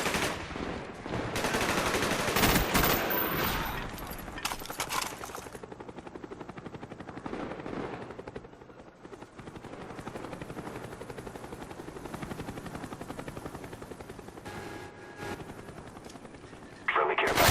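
Attack helicopter rotor drone and bursts of automatic gunfire in a team deathmatch shooter game, loud and continuous throughout, with heavier firing in the first seconds and announcer-style voice lines over it.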